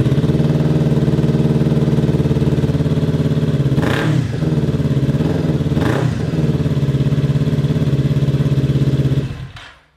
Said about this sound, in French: on va la démarrer pour écouter le bruit avant le changement de la ligne